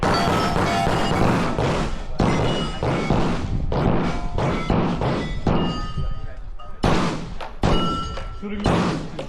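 Rapid gunshots ring out at a Steel Challenge shooting match, loud sharp cracks in quick irregular strings with metallic pings from steel targets, close by, with people talking between shots.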